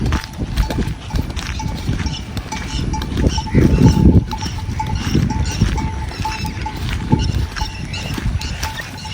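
A flock of sheep and other livestock mill around in a Pakistani village, with shuffling hooves, clinking bells and scattered animal noises at moderate loudness.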